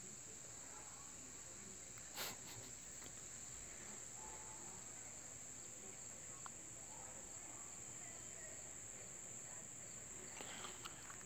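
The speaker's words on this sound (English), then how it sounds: "I can barely hear the cricket with my left ear when I point it towards you." A cricket chirping outdoors in Sylva, North Carolina as a solar eclipse darkens the sky: a faint, steady high-pitched trill running continuously through quiet ambient background, with a brief knock near the start.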